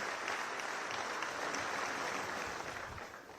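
An audience at a defence ministry civilian awards ceremony applauds the award winners, a dense, even wash of clapping held steady and fading slightly at the end.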